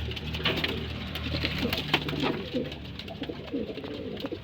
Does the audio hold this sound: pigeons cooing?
yes